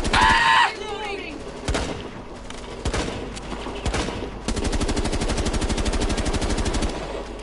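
In a video game, loud blind gunfire opens with a burst and scattered shots, then settles into a sustained rapid automatic stream near the end, with game sounds between the shots.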